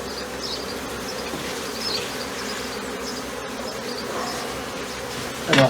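A dense, steady buzz of many bees fills the air close by as a brood frame is shaken over a hive, ending in a brief louder rustle.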